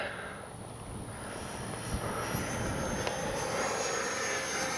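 An Arrows 64mm Marlin RC electric ducted-fan jet flies overhead on its maiden flight, a continuous whooshing whine that rises slowly in loudness against outdoor wind noise.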